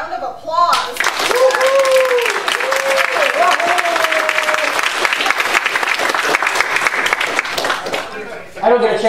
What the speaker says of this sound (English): let's wrap that up with a round of applause